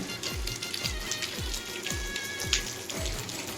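Rain falling after a heavy night downpour, with close drops pattering on a surface and a steady wet hiss, under a regular series of low dull thumps.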